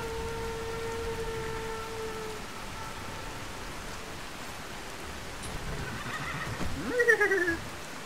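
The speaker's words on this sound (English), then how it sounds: "He's a good horse." A horse in the video game Skyrim neighs loudly near the end over steady rain, after a long hiss of rainfall and a faint tonal hum.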